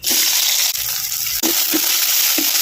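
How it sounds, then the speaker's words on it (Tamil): Small shallots frying in ghee in an iron kadai give a loud, steady sizzle throughout, broken by a few clinks and scrapes of stirring. "நெய்யில் சேர்த்த சின்ன வெங்காயத்தை அப்படியே நெய்யில் நல்லா வதக்கு நல்லா வதக்கணும்."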